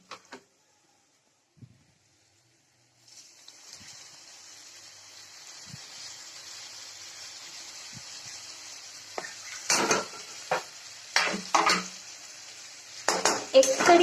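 Tomato puree goes into a pan of egg curry and is stirred. After a quiet start, a soft steady sizzle rises, then sharp metal spoon scrapes and clanks against the pan come in bursts, close and loud.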